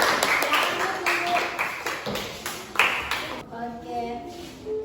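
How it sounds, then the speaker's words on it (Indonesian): Students in a classroom clapping for a classmate, a short burst of scattered, fairly close hand claps that fades out partway through, with a voice speaking over it. "beri tepuk tangan untuk teman kita"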